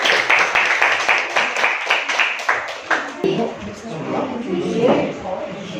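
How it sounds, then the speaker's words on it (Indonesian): A short burst of classroom clapping from many students' hands, fairly close, quickly fading into overlapping voices as people start talking. "Tepuk tangan dulu untuk temannya."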